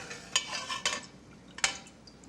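An old slotted spoon scoops pecans out of a pot, giving a few close metallic scrapes and clinks against the pot at irregular moments over a quiet background.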